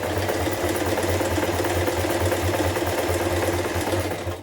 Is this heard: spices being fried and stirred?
no